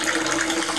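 Water from a fountain pours and splashes steadily into a tilapia fish pond, a close, continuous rushing wash with no breaks.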